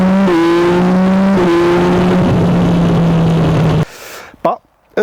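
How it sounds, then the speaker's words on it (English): A Yamaha Tracer 9 GT motorcycle's 890cc triple engine howls loudly with high-pitched revving that steps up through gears, then cuts off abruptly into brief sharp bursts. "the high-pitched howl that comes out of that 890cc triple engine"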